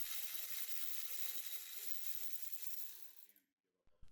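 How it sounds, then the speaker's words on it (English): A ratchet wrench turns out the front differential mounting bolt on an Audi B8/8.5, C7/7.5 or D4 chassis, with dense, rapid metallic clicking for about three seconds, close and steady, that stops and leaves a brief clunk at the end. "Remove the front diff mounting bolt."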